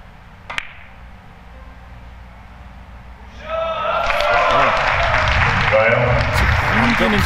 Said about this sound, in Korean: 뒤에서 아주 박수 소리를 아주 크게 보내고 있는